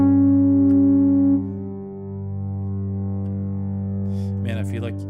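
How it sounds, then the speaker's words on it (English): A sharp 4 interval played for ear training, with two sustained effects-laden tones held together until the upper note drops out, leaving a lower drone; a voice briefly speaks near the end. "That's the sound of a sharp 4."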